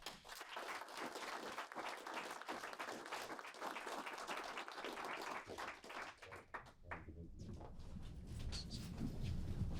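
Audience applause at a tech presentation event, scattered clapping that builds toward the end, with some murmuring underneath.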